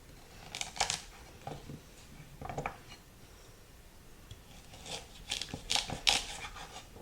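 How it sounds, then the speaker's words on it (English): Three large carrots being peeled and their ends cut off for a chicken noodle soup, heard as a few soft scraping and snipping strokes with quiet gaps between, close and faint, with no talking. "Now I'm taking 3 large carrots. I'm just going to peel them."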